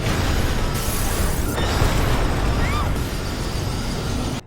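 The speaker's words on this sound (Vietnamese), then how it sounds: "một tiếng nổ đinh tai nhức óc vang lên" Loud, broad rumbling blast from a zombie-apocalypse train film, a sustained roar of noise filling the whole span with debris-like crackle, then cutting off abruptly.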